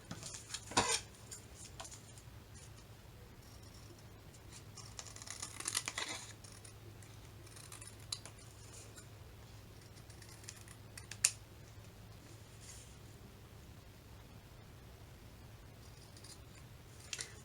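Scissors snip excess paper from a handmade Christmas junk journal pocket, giving a few brief, close cuts at the start and later isolated snips over a quiet room background.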